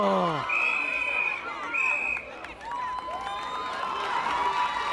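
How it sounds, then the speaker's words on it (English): Crowd at a netball match between Antigua and Barbuda and Saint Kitts cheering and shouting with scattered clapping, a lively wash of voices under whistles and a commentator talking throughout. "The crowd is happy, but they'll be happier to see Antigua ahead."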